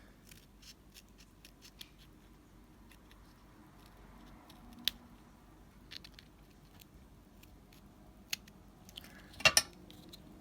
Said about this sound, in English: We could trim it a little to try to make it fit better.